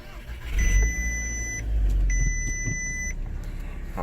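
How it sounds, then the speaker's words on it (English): Two electronic chimes sound in turn while a VW Golf R engine, started by push button, rumbles low, turns over and settles into a steady idle close by. "Got that push start button with the needle sweep."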